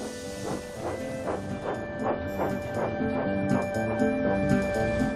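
Thomas the steam engine shunts freight wagons of bricks, flour and lumber into a siding, a steady rhythmic chuffing of puffs with a sustained whistle-like tone and wagon rumble underneath, moderately close and continuous.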